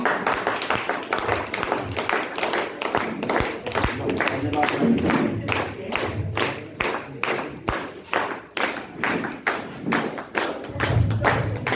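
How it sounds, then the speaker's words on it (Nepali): Applause at a Nepali Pran Pratistha honouring ceremony, a crowd clapping loudly with thuddy hand claps that continue for several seconds, rhythmic near the end, with some voices underneath. "जोरदार ताली।"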